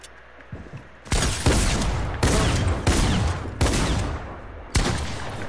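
Submachine gun fire from a first-person shooter video game, loud close bursts of rapid automatic shots arriving in several spaced volleys, with no talking over them.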